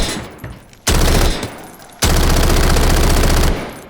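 P90 submachine gun firing in the video game Delta Force, two loud full-auto bursts of very fast rhythmic shots, the second longer at about one and a half seconds, close and dominant with no talk.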